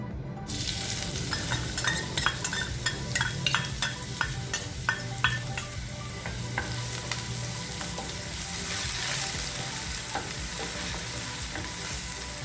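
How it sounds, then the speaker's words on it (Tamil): Crushed shallots fry in hot oil in a pan for okra stir-fry, a continuous crackling sizzle punctuated by a series of sharp spatula taps and scrapes, close and with no talking. "நல்லா வதக்கிக்கோங்க"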